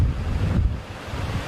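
Strong wind buffets the microphone while waves surge and crash during Storm Pabuk at Laem Talumphuk, a loud, gusting roar with low rumbling swells and no speech.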